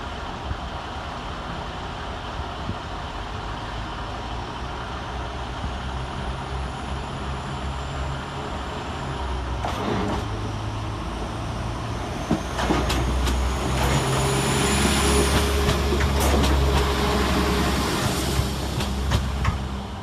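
Class 195 diesel train 195004 pulling out of Sheffield railway station toward Lincoln Central, a steady rumble of engine and wheels that grows louder midway, with rail clicks and squeals under the station's open hall.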